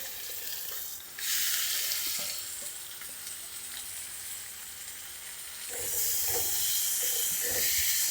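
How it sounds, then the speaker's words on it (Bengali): Chopped onion and garlic fry together with tomato in hot oil, a steady close sizzle and hiss that swells loudly at the start, eases off, then surges again as the pan is stirred. "এই যে এগুলো সব একসঙ্গে ভেজে নেবো টমেটো দিয়ে।"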